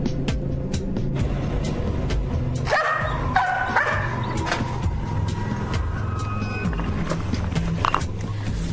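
Several cadaver detection dogs bark and yip repeatedly, sharp overlapping barks at close to medium distance, with a higher whine partway through over a steady outdoor background.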